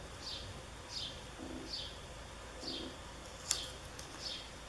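Faint birdsong in the distance: a repeated descending chirp every second or so, with soft low cooing in between, over quiet outdoor hiss.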